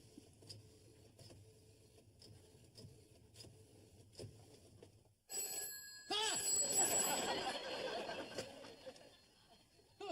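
A telephone rings at home after midnight, with a few faint periodic rings in a quiet room, followed by louder clattering and a bright ringing burst in the second half.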